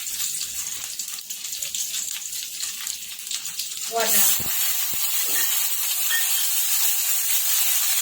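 Mustard seeds and green chillies hit hot oil in a pan, bursting into a sudden loud sizzle and hiss after quieter crackling, with sputtering pops continuing.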